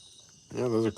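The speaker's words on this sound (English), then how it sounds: "those are crickets" Crickets and cicadas chirp outdoors as a steady, faint high-pitched drone that runs through the whole moment, with a voice speaking over it in the second half.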